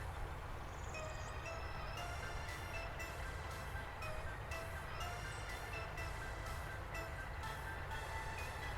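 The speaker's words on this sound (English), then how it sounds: "As our train moseys in and does what it's got to do." A train in a railroad simulation game rolls into a station: a steady rumble of wheels and machinery runs throughout, with faint regular clacks and a few high tonal squeals over a constant low drone, with no talking.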